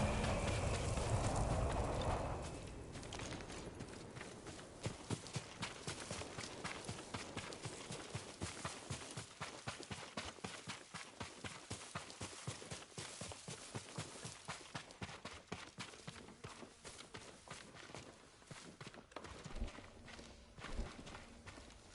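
A horse's hooves clip-clop in a steady walking rhythm in the Ghost of Tsushima video game, repeated clear thuds over a low ambient wash, fairly close, with no talking.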